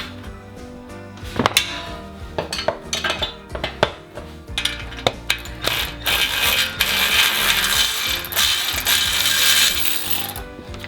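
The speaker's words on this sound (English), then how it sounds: "Might get a wrench on that on the bottom." A metal wrench clanks and ratchets against a bolt underneath a new Ford Bronco while a broken axle is replaced, with close metallic clinks and taps followed by a denser rasping scrape.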